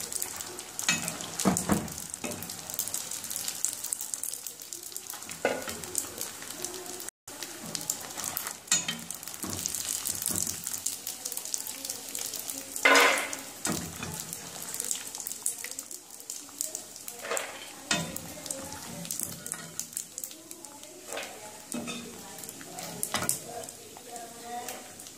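Macaroni kurkure fries in hot oil with a steady, dense sizzle and crackle throughout, and occasional stirring clatter and bursts on top.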